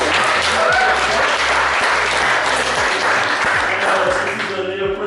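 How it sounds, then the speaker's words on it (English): Loud, sustained applause from a dance workshop audience at a Bollywood and Bhangra beginners' class in New Zealand, with dense clapping throughout and a steady low rhythmic thump underneath. "big applause"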